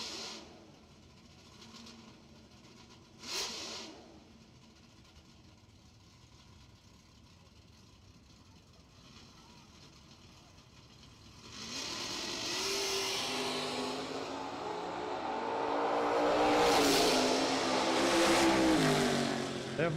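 A Chevy LUV pickup launching and making a drag racing pass at a radial tire event: a quiet idle with brief blips, then a loud engine surge building to a sustained roar that swells toward the end.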